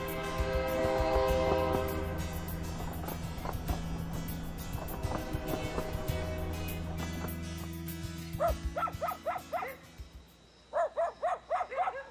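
The slow 5633 passenger train in China's Daliangshan region sounds a long, droning horn over rumbling carriages. A dog then barks in repeated close bursts near the end. Faint voices are also present.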